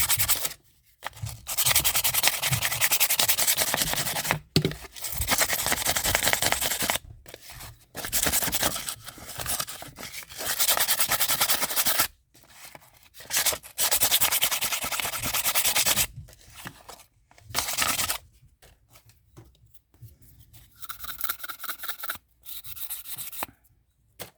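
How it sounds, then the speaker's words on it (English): A terra cotta pot is sanded by hand with sandpaper, giving loud, close, rasping scrubbing strokes in bursts separated by short silences, with quieter, sparser rubbing toward the end and no talk. "So let's just sand it down"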